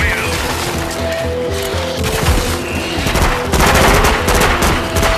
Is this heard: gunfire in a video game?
yes